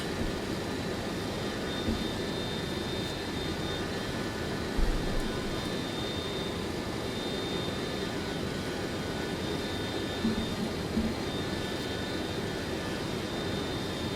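Steady broadband roar of a Boeing 727 freighter's jet engines at climb thrust in flight, heard from inside the simulated aircraft, continuous and even with no talking.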